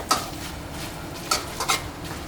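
Instant noodles with bean sprouts are stir-fried in a pan: a few soft, scattered scrapes and light metallic taps of the utensil sound close by over a low background hiss.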